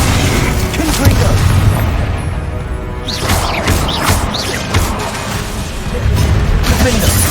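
Booming fire-spell explosions from the Hogwarts Legacy video game burst repeatedly amid loud, dense battle noise and spell effects, with several sharp cracks and whooshes layered over a continuous rumble.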